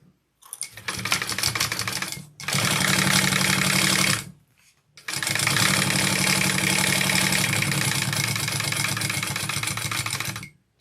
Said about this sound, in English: I'm going to flip this up and sew it on